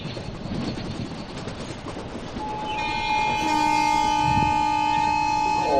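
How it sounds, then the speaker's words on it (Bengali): A simulated goods train rumbles along steadily, then a long sustained horn sounds loud and close for the final seconds over the rolling rail noise. "গুডস ট্রেন অর্থাৎ মালগাড়ি।"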